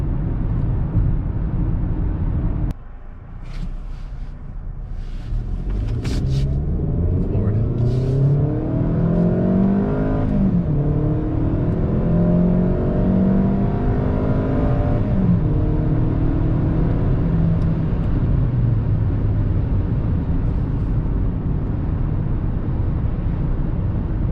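A 2020 Kia Optima FE accelerates, its engine note rising steadily in pitch from a low hum to a sustained drone, heard from inside the cabin without talk.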